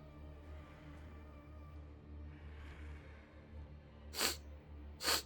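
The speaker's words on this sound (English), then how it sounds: "That was a very large sneeze." Two sharp, close sneezes break out near the end, one after another, over a quiet low hum.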